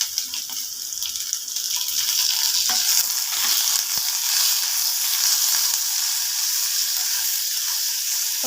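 Coconut and a tomato sautéing for mutton gravy give a steady, close sizzle with faint stirring scrapes throughout, no voices.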